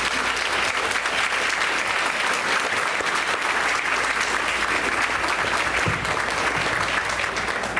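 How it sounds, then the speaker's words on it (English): A crowd at a school board meeting gives sustained, even applause: many hands clapping steadily for the whole stretch, with no pauses or speech over it. "I'd like to give a nice warm another nice warm round of applause to our recognition committee."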